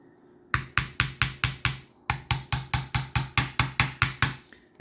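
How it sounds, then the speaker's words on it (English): A small hammer knocks detent pins into an HDP50 Gen 2 frame, first a run of six sharp metallic taps, a brief pause, then about twelve more evenly spaced strikes, crisp and close. "And all these should just knock in easily."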